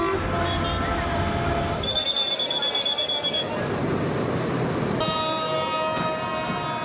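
A passenger train during the crowded Eid holiday journey rolls past with steady wheel rumble and high metallic squeals, loud and close, with a sharp tonal whine partway through.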